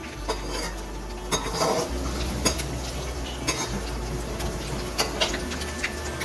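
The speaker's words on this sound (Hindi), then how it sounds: "इसको अच्छे से हमने मिक्स करना है ऑयल के अंदर।" A spatula scrapes and taps against a pan while fried eggs are stirred in oil, giving irregular metallic clinks and scraping over a steady low sizzle and hum, with no talking.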